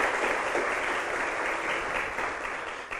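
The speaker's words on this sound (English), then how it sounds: "Give him a round of applause, please." Sustained audience applause at a national school debate semifinal in Jamaica, a dense, steady clapping that fills the room evenly and fades slightly toward the end.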